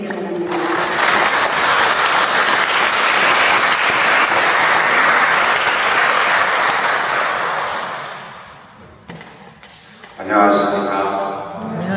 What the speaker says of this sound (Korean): 박동우 신부님을 큰 박수로 맞이해 주시기 바랍니다.